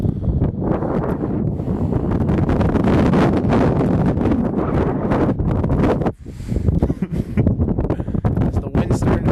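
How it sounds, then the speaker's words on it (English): Strong wind roars and buffets the microphone continuously at a high school baseball field during a game, a loud steady rush that briefly dips once before gusting again, with an announcer talking over it. "As the wind's starting to pick up here at UT."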